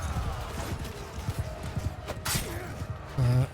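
Horse galloping in the medieval combat video game Mount & Blade II: Bannerlord, a steady rapid clip-clop of hooves under a busy game soundscape, with a brief snort near the end.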